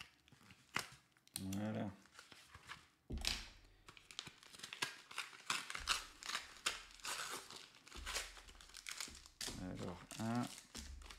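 A Pokémon booster pack wrapper is torn open up close, with bursts of crinkling and ripping foil plastic mixed with handling noises while a person speaks briefly.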